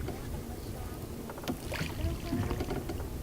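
Oars dip and splash as a boat is rowed with its engine cut near river dolphins in Cambodia, soft rhythmic strokes and water sloshing over a steady background of wind and river.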